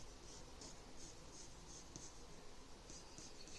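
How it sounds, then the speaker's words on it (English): A pencil sketches a curve across foam board with soft, steady scratching strokes, faint and close, each stroke marked by light rhythmic scraping, ending in a brief louder knock. "I can just sketch my curve"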